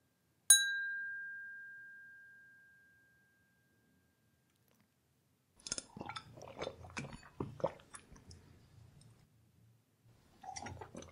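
A single bright glass clink for a toast rings out and slowly decays, followed after a pause by soft sipping and mouth sounds.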